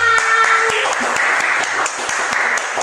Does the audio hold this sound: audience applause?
yes